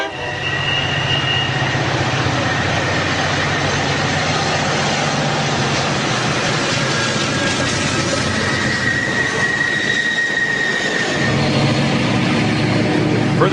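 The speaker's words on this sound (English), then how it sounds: "Now, diesels like this Amtrak F40 skim through Cruzette without pause." An Amtrak F40 diesel locomotive and its train pass through Cruzette on the Cascade line, a loud sustained rolling roar of wheels and engine with steady clatter, a high drawn-out wheel squeal and a drop in rumble partway through.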